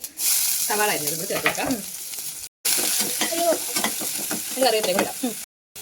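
Mustard seeds and green chili fry in hot oil, giving a steady close sizzle with stirring scrapes, while a voice talks over it and the sound cuts out briefly twice.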